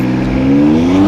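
A 2020 BMW X4 M Competition's engine revs and pulls hard in a launch-control start with traction control off, its tone climbing steadily in a loud, close, continuous roar.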